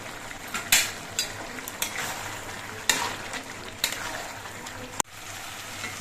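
Vegetable curry cooks in a pan over a raised gas flame, giving a soft steady sizzle, with occasional sharp clinks and scrapes of a ladle against the pan.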